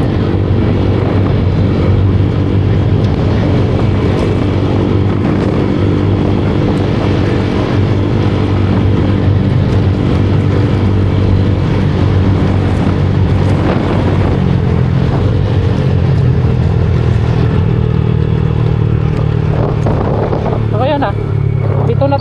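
A motorcycle cruises along a highway between Manila and Bicol, its steady engine drone buried under loud, constant wind buffeting on the microphone.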